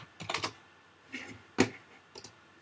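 Keys typed on a computer keyboard into a web browser, a few short bursts of close, quiet clicks separated by pauses, with no one speaking.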